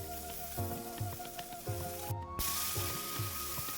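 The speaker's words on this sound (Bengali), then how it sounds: "তেলের মধ্যে অল্প করে জিরা আগে থেকে কাটা আলুগুলোকে দিয়ে দেব সঙ্গে সিমগুলোকেও" Cut potatoes and flat beans tipped into hot oil with cumin in a kadai, a loud steady sizzle close by with rhythmic scraping strokes of a spatula and a brief hiss burst midway.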